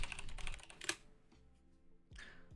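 Rapid keystrokes on a computer keyboard, a close burst of clicky taps at the start, a pause, then a few more keys near the end, fairly quiet with no talking.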